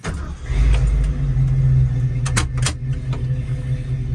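A 1974 Ford Bronco Sport engine cranks and catches, a loud close rumble for about two seconds followed by sharp clicks and a lower steady idle.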